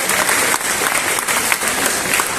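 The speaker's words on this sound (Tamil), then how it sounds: "எல்லாருக்கும் அவங்களுக்கு ஒரு மிகப்பெரிய கைத்தட்டல் கொடுக்கலாம்" An audience applauds contestants at a millet cooking contest, with sustained, dense clapping from a crowd that stays loud and even throughout.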